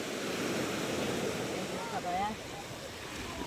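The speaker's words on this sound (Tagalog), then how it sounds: "Ang alon," Sea waves wash steadily onto the shore, a broad rushing surf under wind noise on the microphone, with brief bits of nearby talk.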